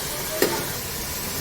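Onions, green chillies and mint being stirred in a hot pan, a steady frying sizzle with one brief scrape of the spoon partway through.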